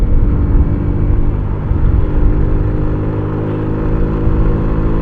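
A motorcycle engine labouring uphill in third gear, a loud, continuous low droning vibration at steady revs, close and unbroken throughout.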